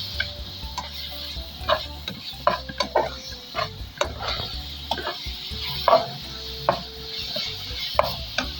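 Beef liver stir-frying in a pan with green chillies, with a steady sizzle under repeated scraping and stirring clicks of a utensil against the pan, close and continuous.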